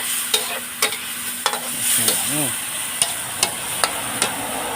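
Crispy pork, freshly deep-fried, being stir-fried in a pan at a Thai curry shop, with a steady oily sizzle and repeated sharp scraping clacks of the spatula against the pan, close and loud, with no talking.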